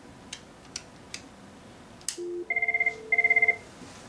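A Cisco 7975G IP phone rings with two short bursts of rapid electronic trilling, preceded by a few faint clicks from the handset, heard close up in a quiet room.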